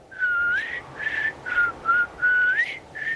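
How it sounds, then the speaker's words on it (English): A person whistles a series of clear, high tones in short phrases, some notes held and some sliding upward, with a faint hiss of background noise behind. "Could you demonstrate what the whistle sounds like?"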